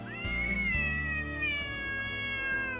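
A cartoon cat from a Hindi moral story about a city mouse and a village mouse lets out one long, drawn-out meow, close and clear, with no talk over it.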